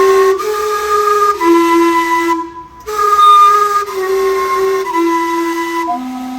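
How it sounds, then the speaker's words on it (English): Gastown's steam-powered clock in downtown Vancouver sounds its whistle chimes: a loud series of sustained, tuned steam-whistle notes, one after another with brief breaks, hissing steam underneath, heard close up in the street. "It is powered by steam and whistles every 15 minutes."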